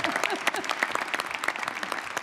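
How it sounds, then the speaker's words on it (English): A room of attendees applauds a former Discovery shuttle commander at a formal government council meeting. The clapping is short and dense and comes from a moderate distance, with a few cheers mixed in. "I think that's worth a round of applause."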